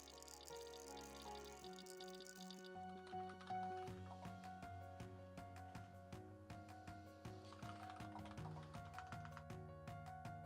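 Steady keystrokes on a split keyboard in a home office tap in a continuous, fairly even rhythm, soft and close, beneath louder background music with sustained tones.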